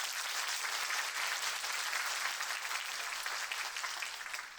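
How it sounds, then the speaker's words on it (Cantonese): Steady, dense applause from an audience at a ceremony, filling the whole stretch at a constant level without breaks or voices. "我哋都要掌聲鼓勵支持"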